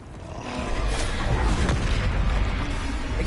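In Hogwarts Legacy, a Confringo spell sets off a blast that comes through as a dense, booming burst of rumbling noise, loud and sustained for a few seconds, with no voices over it.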